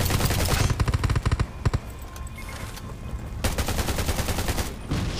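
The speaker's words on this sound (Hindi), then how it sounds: "देखो भाई वो सारा भाई वही मार रहा है मशीन गन वाला" Rapid machine gun bursts mowing down zombies in the survival shooter Undawn, loud and close, firing in dense stuttering volleys with a short lull before another sustained burst.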